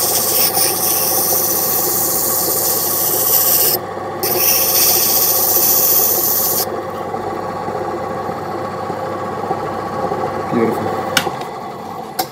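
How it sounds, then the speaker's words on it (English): Opal being ground flat against a 240 grit pad on a lapidary machine, a steady rasping rub over a constant motor hum, loud and close, easing off toward the end. "just a little touch on the flat just to give it a 240 grit"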